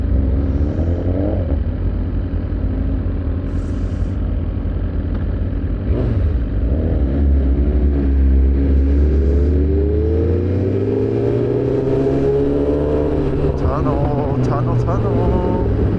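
A loud superbike engine revving on the road, its roar rising and falling in long sweeping pitches throughout, with the rider talking over the steady engine noise.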